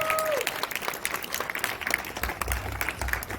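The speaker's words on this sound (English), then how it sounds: "Round of applause for yourselves" An outdoor audience at a steampunk festival applauds itself, scattered crowd clapping over several seconds with a faint tone at the start and low rumble later.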